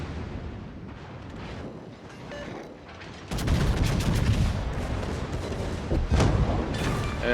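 Naval gunfire from the battleship Iowa in World of Warships: a quieter opening rumble, then loud heavy cannon booms that roll into a sustained thundering roar with repeated sharp reports.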